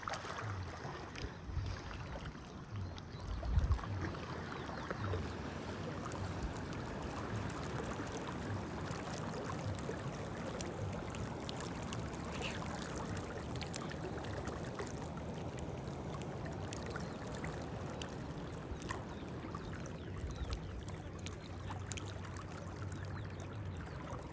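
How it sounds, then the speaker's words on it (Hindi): Floodwater rushes through a village river in Taunsa, a steady, dense roar of flowing water that holds constant and loud throughout with no talk. "ये हमारे गांव का सैलाब है खतरनाक"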